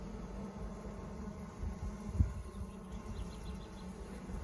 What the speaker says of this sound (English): Just so many bees.